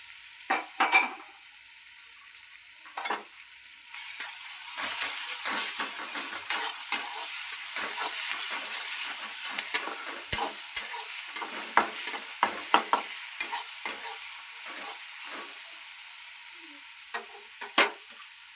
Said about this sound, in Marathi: आता कोथिंबीर, अद्रक लसणाची पेस्ट टाकू बघा